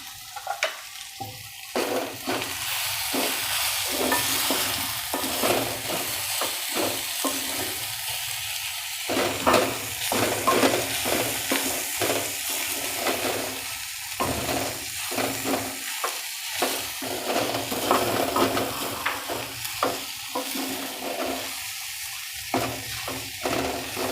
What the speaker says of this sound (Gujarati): હવે એમાં આપણે વટાણા અને બટેકું નાખી દઈશું આવું અધકચરો ક્રશ કરવાનું